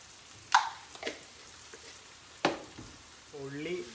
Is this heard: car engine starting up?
no